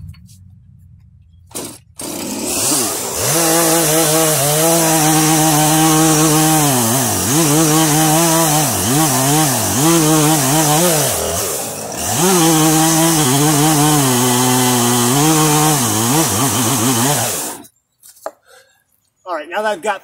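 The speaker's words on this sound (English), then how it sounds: "So we're gonna get the chainsaw out, see if we can get this cleaned up a little bit." A loud chainsaw roars almost continuously, its pitch rising and dipping as it bites into a knotty log, with a brief pause midway before cutting out near the end.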